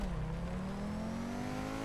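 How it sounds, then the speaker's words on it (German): A car engine in GTA Online drones steadily with a rising pitch as it accelerates, close and continuous with road rumble underneath and no talking. "Haben wir eigentlich alle das gleiche Auto?"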